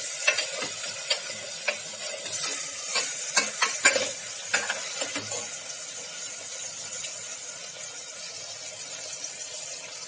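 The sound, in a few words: mutton frying with asafoetida in a pan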